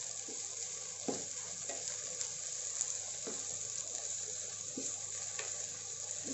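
Beans fry in ghee in a pan for paneer pulao, a quiet, even crackle running throughout with occasional light scrapes of stirring.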